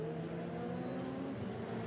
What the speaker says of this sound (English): All that power from the NASCAR engine comes into play.